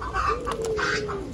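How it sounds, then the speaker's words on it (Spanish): Curly-feathered pigeons cooing, soft low throaty coos close by over a faint background murmur. "Estas son palomas rizadas."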